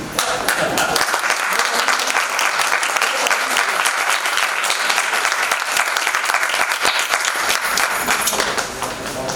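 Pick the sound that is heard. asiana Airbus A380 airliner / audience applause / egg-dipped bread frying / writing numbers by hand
audience applause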